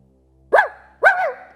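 A toy robot gives a synthetic imitation of a dog barking: two close, loud barks about half a second apart, each with a bright electronic tone that trails off.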